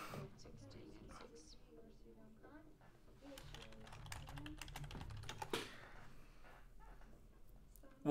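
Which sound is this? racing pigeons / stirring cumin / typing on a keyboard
typing on a keyboard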